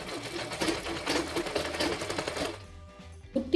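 An electric sewing machine stitches a chudithar kurti in a rapid, steady run of needle clatter, then stops, leaving faint handling sounds and a brief knock near the end.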